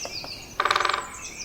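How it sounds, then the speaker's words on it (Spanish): A great spotted woodpecker drums on a pine tree in a largely burned pine forest, a single rapid burst of about ten sharp knocks, with faint bird chirps in the background. "Esto es un picapinos, un pájaro picapinos"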